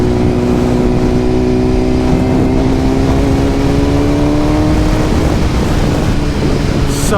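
A 2025 BMW S1000RR motorcycle with an aftermarket exhaust and tune revs loudly up close, its engine note climbing steadily in pitch as it builds, a dense, continuous roar throughout.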